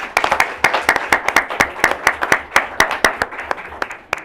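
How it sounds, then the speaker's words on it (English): A small group at a city council meeting applauds, with close and crisp hand claps at an uneven, quick pace over a softer bed of scattered clapping that carries on without a break. "Thank you again, and some applause there."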